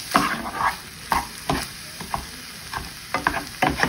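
Minced garlic and yellow onion sizzle in a pan for lettuce wraps. A utensil scrapes and stirs in irregular, fairly loud bursts over a steady frying hiss.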